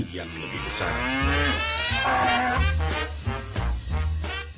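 A cow lets out a long, loud, close moo that falls in pitch, followed by a few shorter lowing calls, with no talk over it.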